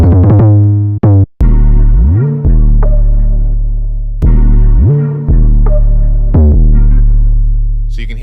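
A deep, loud 808 sub-bass note repeats in a steady pattern, each phrase sliding smoothly upward in pitch before holding, with clicks at the note starts.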